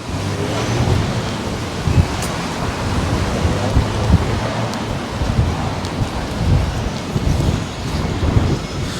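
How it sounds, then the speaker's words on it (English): Strong gale-force wind roars on Oxford Street in Sydney as a loud, constant buffeting rumble with occasional gusts, drowning out any other street sounds and with no voices. "the wind blows a gale here"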